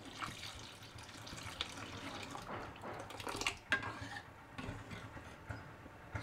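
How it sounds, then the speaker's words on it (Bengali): Hot water poured from a vessel into Bengali dal in a home kitchen, a soft continuous splashing and trickling with a few clinks of utensils, fairly quiet and close. "আমি এই যে গরম জলটা রেখে দিয়েছিলাম এইবার দিয়ে দেব।"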